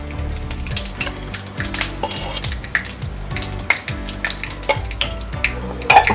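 Ghee heating in a kadhai on a gas flame, a steady loud sizzling hiss with crackly bursts and some metallic clatter of utensils running throughout, no voices.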